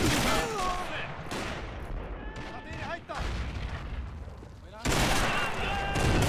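Video game battle at a bridge, with rapid volleys of gunfire and booming explosions crackling in bursts, loud and dense, with a lull before a renewed barrage near the end.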